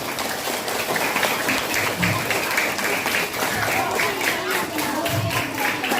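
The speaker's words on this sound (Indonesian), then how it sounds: "Boleh tepuk tangan buat kita semua." Schoolchildren applaud together at an elementary school disaster mitigation education session, a steady dense clapping that carries on for the whole stretch, with some voices mixed in.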